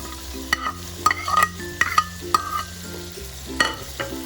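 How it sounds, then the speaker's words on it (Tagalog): Cabbage being stir-fried for pancit bato guisado, a steady pan sizzle broken by repeated sharp clacks and scrapes of a utensil against the pan, close and clear with no talking. "Ilalagay ko na yung ating cabbage."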